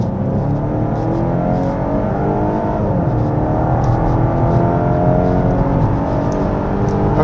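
A Volvo S60 B5 FWD engine pulls steadily as the car accelerates along a winding road, a loud, continuous hum heard from inside the cabin with the revs climbing slowly and no voices over it.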